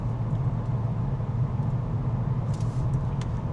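A 2025 VW Golf R accelerates from inside the cabin, its engine a steady low droning rumble with road noise, moderately loud and even, plus a few faint higher clicks late on.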